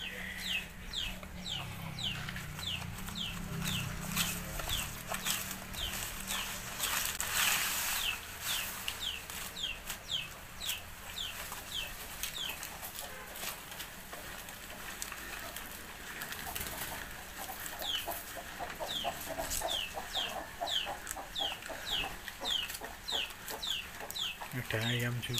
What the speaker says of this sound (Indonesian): Ada ayam juga. Ini selain pelihara sapi ada banyak ayam di sini